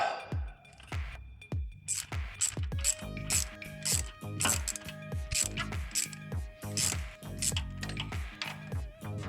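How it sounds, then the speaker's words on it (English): A socket ratchet on a long extension bar, driven with a 1/4-inch socket set, clicks rapidly in repeated bursts while tightening a car coolant hose clamp, close and loud with no talking. "With a mixture of the spanner on an extension bar and a 1/4-inch socket set with a lot of extension, I was able to loosen, reposition and then tighten the hose clamp"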